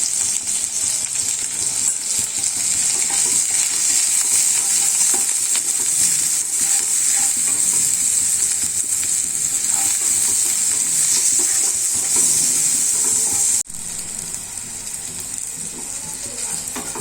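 Eggplant pieces frying in oil with salt and turmeric in a pan over medium flame, a loud steady hiss with scraping stirs and clinks, briefly dropping after a sharp knock near the end.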